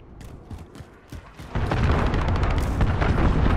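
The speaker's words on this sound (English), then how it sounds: "Allied cruise missile away." A cruise missile strike from the game Call of Duty: Modern Warfare lands as a sudden loud, sustained explosive roar that rises abruptly and rumbles on, preceded by quieter thumps and crackles of distant battle.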